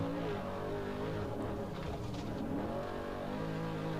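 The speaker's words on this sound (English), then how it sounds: "the engine you're hearing there is the one you can buy from Summit or Speedway or Jegs or wherever" Loud, steady roar of a GM Performance 525 hp spec engine in a trophy truck racing off-road in the SCORE San Felipe 250 qualifier, with the pitch wavering and rising through revs over continuous engine noise.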